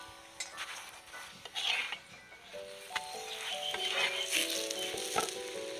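Aloo paratha frying in oil on a hot tawa gives a steady close sizzle, with a few soft clinks of a spatula or utensil against the pan, and no voices.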